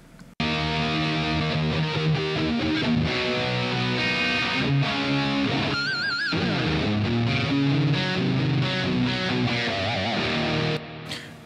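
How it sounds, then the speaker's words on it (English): A heavily distorted electric guitar plays alone as an isolated left track, with sustained chords, quick runs and a brief whammy-bar warble, loud and upfront. "A guitar left on its own, it sounds like this."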